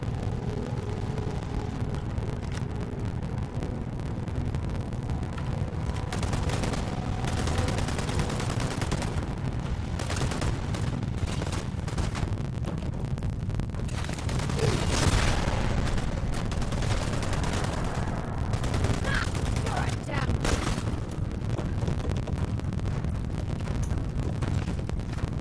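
Sharp bursts of gunfire ring out in Starfield amid a windy, rumbling backdrop, some single cracks and some rapid clusters, moderately loud and scattered.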